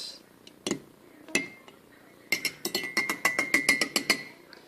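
A fork stirs scrambled eggs in a bowl: a few scattered taps come first, then a quick run of bright, rhythmic clinks against the bowl, close and fairly clear over a quiet background.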